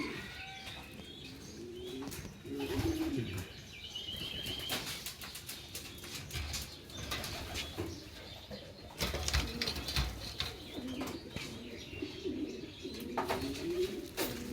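Racing pigeons coo repeatedly in soft, rhythmic bursts, close by, with occasional wing flaps and scattered chirps; someone speaks briefly between calls.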